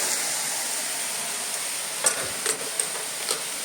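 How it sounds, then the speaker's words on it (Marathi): Chopped banana flower stirred and sautéed in a hot tempering, a steady low sizzle throughout with a handful of soft spatula scrapes in the latter half. "थोडंसं परतून घ्यायचं फोडणीवर"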